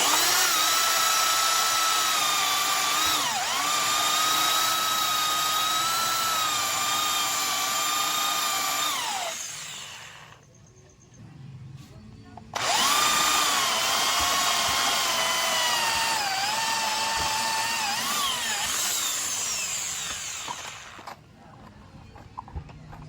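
A power drill bores bolt holes into a sidecar frame, whining steadily for about nine seconds, then briefly stopping before a second equally long, close, loud drilling run that winds down near the end.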